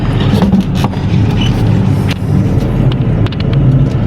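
Toyota Corolla on a test drive after carburetor repair, a steady interior engine and road rumble close and loud, with occasional bumps and knocks throughout.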